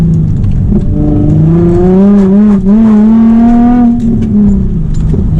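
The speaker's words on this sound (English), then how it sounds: "I gave it full throttle for a second there." Nissan 350Z engine pulling hard at full throttle through a backroad corner, its loud in-car drone climbing and dipping in pitch as revs rise, waver, then surge again, close and continuous.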